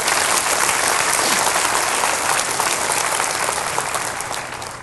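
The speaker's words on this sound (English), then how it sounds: "Give her a quick round of applause." A live audience at a recorded PBS talk gives a quick round of applause, dense and steady clapping that fills the space and tapers off toward the end.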